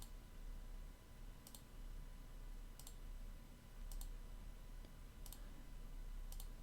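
Mouse clicks on a character in a video game, five or six sharp, isolated clicks spaced about a second apart over a steady low background hum, with no talking.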